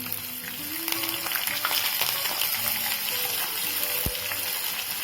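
Dried red chillies and peanuts sauté in a hot pan, giving a steady, close crackling sizzle that runs through the whole stretch with no one talking.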